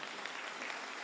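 An audience at a Tamil debate-style stage event claps in a dense, steady burst of applause, moderately loud, with no speech over it.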